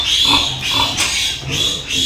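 A healthy piglet drinks at a farm, giving repeated short grunts and squeals in a steady rhythm, close and loud with no talking.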